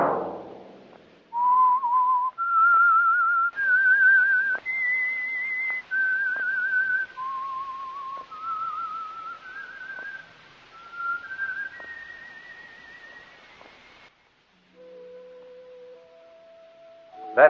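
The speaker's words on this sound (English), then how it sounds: "Let that whistle be your signal for the Whistler." A lone whistler carries a slow melody of sustained notes stepping up and down, clear and close, ending with a few lower tones; the theme of a 1940s radio drama.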